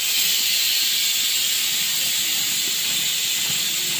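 Chopped ridge gourd being washed in water in a home kitchen: a steady, even rushing hiss of water runs the whole time, with no voices.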